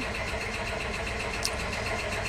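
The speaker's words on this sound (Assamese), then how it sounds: "এতিয়া ছুইফ্ট ডিজায়াৰখনৰ ইঞ্জিনটো দেখাই আছোঁ।" A Maruti Swift Dzire's engine runs at a steady idle, close by with the hood open, a continuous even hum and rumble with no talking.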